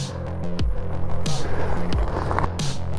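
A Viper Duel 5600W electric scooter runs on its rear motor alone, its electric whine rising and falling in repeated sweeps over a constant hum, close and fairly loud.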